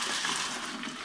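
Cold water pours in with a short, steady gush and splash, close and fairly loud, with no talk over it.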